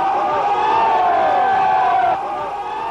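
A lunchtime crowd at World Expo 88, a steady loud roar of many voices with a rising cheer, surging then easing slightly toward the end.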